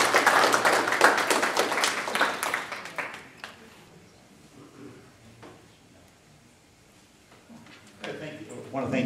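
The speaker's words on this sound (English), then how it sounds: "let's give these guys a big round of applause" A crowd at a Tea Party state representative forum in Port Huron claps loudly and briskly for the first few seconds. The applause then trails off into quieter room noise and scattered sounds before someone starts talking again.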